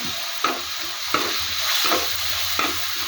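Ingredients fry in a pan for a Kerala dish, a steady close sizzle broken by a few clattering stirs with a utensil.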